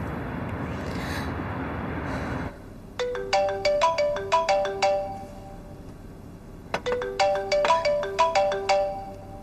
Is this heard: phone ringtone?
yes